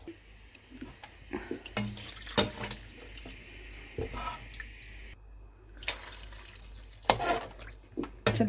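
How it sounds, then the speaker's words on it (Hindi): Water is poured into a pot of browned meat while cooking, giving splashy, uneven gurgles and drips with intermittent clatter, close and moderately quiet. "मैं कुछ और पानी ऐड करूँगी इसमें।"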